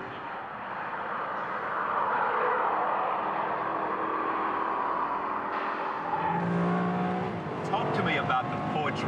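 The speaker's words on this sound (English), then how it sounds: "Especially at 145 miles an hour on Ferrari's test track." A Ferrari sports car runs at high speed on the Ferrari test track, its engine a steady, loud roar that rises and shifts in pitch over several seconds, with tire and wind noise and a voice heard near the end.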